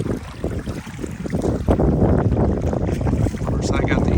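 A boat paddled on a lake in the Maine wilderness, a continuous washing of water and wind buffeting the microphone, with a voice faintly present.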